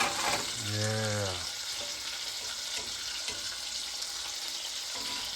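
Hamburger steak frying in a pan gives a steady, close sizzle throughout, with a brief voice-like tonal sound near the start.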